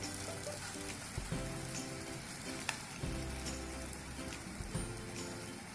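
Paratha frying in desi ghee on a hot pan gives a steady, close sizzle with a few louder spattering bursts as more ghee goes in, heard alone without talk.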